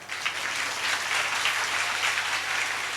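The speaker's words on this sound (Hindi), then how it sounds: "तो अभी हम देखा कि ताली बजा के स्तुति क्या करें" A church congregation clapping in praise during a Sunday service, a continuous even patter of many hands at moderate distance, alone with no voices and a low hum underneath.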